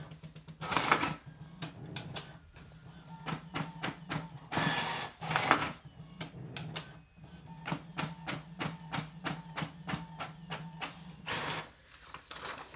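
A Brother printer printing network configuration pages makes rapid, rhythmic mechanical clacks and ratcheting feed strokes, with louder bursts as the paper moves through. It is close and busy, and the clatter pauses briefly between runs.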